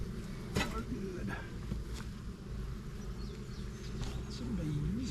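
Bees swarming around a new hive inside a vehicle give a steady, low buzzing drone throughout, with occasional louder passes nearby, while a person talks over it.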